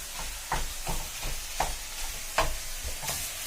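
Chorizo is stirred into onions frying in a pan, with a spoon scraping in a steady rhythm of strokes over a constant soft sizzle, close by and without talking.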